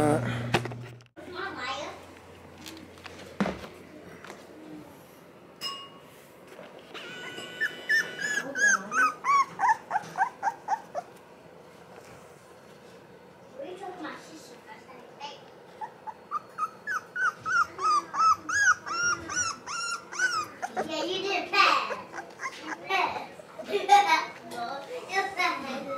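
Puppies bark in bursts of rapid yips, with whimpers and small growls mixed in, fairly close, as children and other people talk and play nearby.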